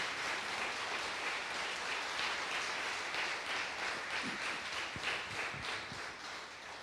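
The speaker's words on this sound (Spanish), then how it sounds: "¿Quiénes le darían un aplauso al Señor en esta mañana?" A church congregation at a Sunday morning service applauds the Lord, a broad rain-like wash of steady clapping from many people, slowly tapering near the end with a few separate claps and thumps.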